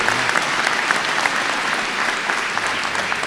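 An audience applauds graduates at the Terra State Community College 2018 commencement, dense and loud sustained clapping filling the hall evenly throughout.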